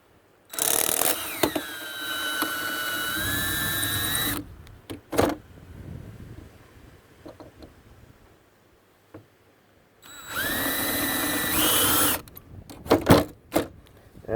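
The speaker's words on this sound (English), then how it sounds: "I'm just going to drill these ones off." A power drill bores out rivets on a Viscount caravan window, two sustained whining bursts with pitch that sags under load, separated by a quieter stretch of small clicks and handling noises.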